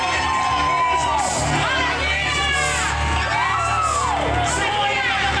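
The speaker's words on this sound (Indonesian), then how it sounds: "Sorak-sorak tepuk tangan bagi Yesus." Church congregation cheers and whoops loudly in worship, a dense crowd of shouting and rising yells with some high children's voices, continuous and close throughout.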